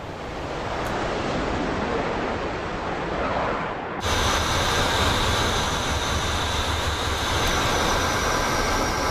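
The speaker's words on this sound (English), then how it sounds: "This sounds like a cockpit if you're not having like your earplugs in" F-14 Tomcat cockpit in the DCS World flight game with the jet running and no earplugs: a loud, steady roar of rushing air and engine noise that jumps louder and gains a high whine partway through.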